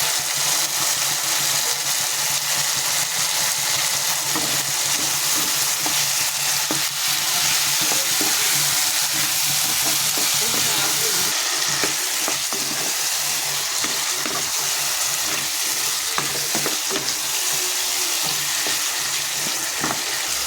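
Cumin, ginger and green chili paste with red chili powder frying in a pan, a steady loud sizzle with frequent scraping stirs throughout, no voices.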